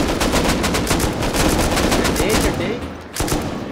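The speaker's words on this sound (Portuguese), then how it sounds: "Acertei 3 tiros, velho, mas o cara não cai." Dense automatic gunfire in the survival game Rust, rapid bursts filling the clip nearly without pause, loud and close, with a brief lull near the end before the shots resume.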